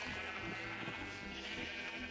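Sheep bleat in Minecraft on a crowded farm, several overlapping calls forming a steady, dense blur of bleats at moderate volume with no talk.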